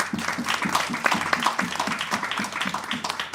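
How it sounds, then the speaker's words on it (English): Audience applause for the women on a panel at the Indigenous Peoples Pavilion during COP28, steady clapping at moderate level with voices mixed in throughout. "So now I would like to give a round of applause to our sisters who are in the panel."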